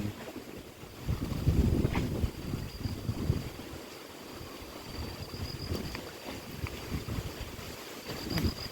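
Wind gusts buffet the microphone outdoors on a rainy, windy morning fishing trip by the water, a steady rushing roar with louder bursts early on and no talking.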